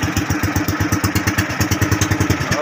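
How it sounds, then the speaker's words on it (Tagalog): Boat engine running at sea after restarting, a steady rhythmic chugging with regular thumping pulses, close and loud with no talk. "Nabuhay din yung makina."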